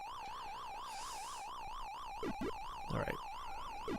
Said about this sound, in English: Now you know it's serious business when the siren starts blaring like that.